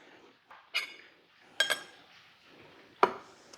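Food is spooned into a small bowl: three separate clinks of a utensil against the dish, quiet and close, with brief soft scraping between them and no talking.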